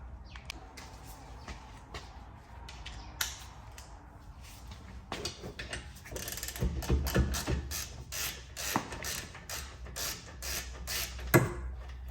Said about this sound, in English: we're gonna go ahead and start by removing the caliper bolts